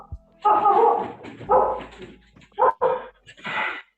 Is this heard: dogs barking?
yes